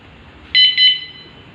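Anti-tip alarm on an electric bike converted from an ordinary bicycle: two quick shrill electronic beeps close together, loud and near over a quiet background.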